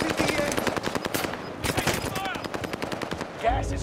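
Rapid automatic gunfire in Call of Duty: Modern Warfare rattles in loud, close bursts of repeated shots, with short pauses between volleys and faint in-game sounds underneath.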